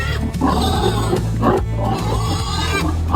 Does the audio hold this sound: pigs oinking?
yes